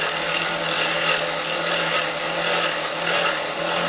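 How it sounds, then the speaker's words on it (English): A blade's wing making a scraping cut on a holiday ornament spinning on a wood lathe, giving a steady loud hissing rasp with a low motor hum beneath. "You can just use the wing of your blade as a scraping cut."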